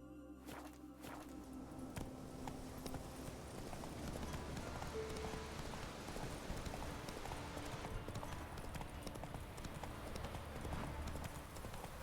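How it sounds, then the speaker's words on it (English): Horse hooves in Witcher 3, a long run of rhythmic clip-clop beats at a steady pace, close and continuous over quiet game background. "Maybe I should summon the horse."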